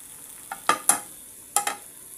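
Tomatoes frying in a pan for a tomato egg curry: a few short, close bursts of sizzle and scraping as the pan is stirred, fairly quiet, with no talk.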